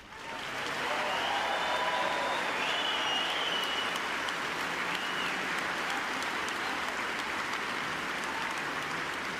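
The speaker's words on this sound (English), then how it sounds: "could you please give a loud round of applause for our 2 wonderful finalists" A large tennis crowd applauds the finalists after the 2020 Auckland final, Serena Williams and Jessica Pegula, with sustained clapping that swells in within the first second and holds steady and loud throughout.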